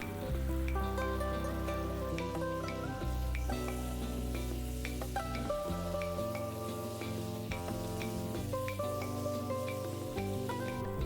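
Tofu, green onion and choi leaves stir-fry in a hot pan with sauce, giving a steady, continuous sizzle that stays even throughout.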